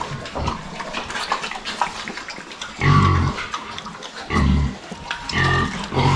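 A mother pig with her surviving piglets on a farm, giving several loud bursts of grunting and squealing between quieter stretches of rustling and snuffling nearby.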